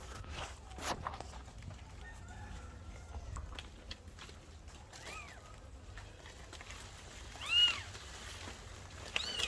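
A cat with newborn kittens meows a few times, small rising cries spaced apart and growing louder toward the end over faint background rustle.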